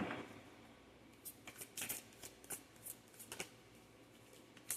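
A deck of tarot cards being shuffled close up, with quick bursts of soft riffling and flicking snaps coming in uneven clusters, fairly faint and without speech.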